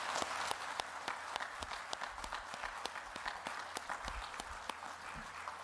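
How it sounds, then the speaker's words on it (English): A crowd applauds steadily throughout, dense rapid clapping from many hands with scattered sharper claps standing out, fairly loud and sustained without voices. "let's give them all a round of applause."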